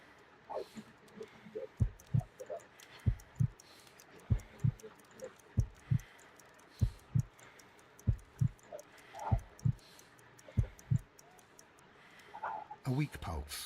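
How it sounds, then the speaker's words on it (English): Slow, regular thumping heartbeat in a Sherlock Holmes game, weak and around fifty beats per minute, with paired low thuds repeating steadily under a faint ambient hum. "I need to concentrate and count the heartbeats."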